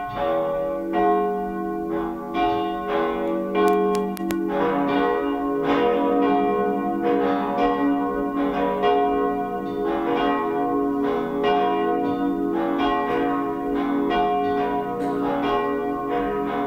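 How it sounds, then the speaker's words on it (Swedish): Church bells of a cathedral ring after Sunday High Mass in Advent, continuously in a loud, overlapping peal, strokes tumbling over one another with a steady rhythm and no voices. "Så får vi höra på klockringningen."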